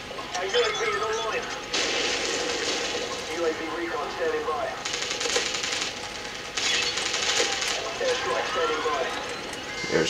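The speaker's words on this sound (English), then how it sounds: "Airstrike." Airstrike explosions in Call of Duty multiplayer, several heavy booming blasts in separate waves at a middle distance, under someone talking over the game.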